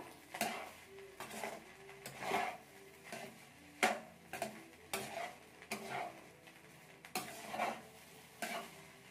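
Egg rice stirred in a pan with chicken masala, a spoon scraping the metal in a steady rhythm of strokes, close and fairly quiet, with a faint sizzle underneath.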